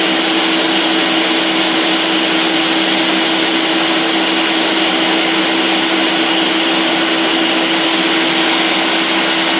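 A blender roars steadily while crushing ice for a carrot, ginger and turmeric smoothie, a loud, dense, unbroken whir throughout.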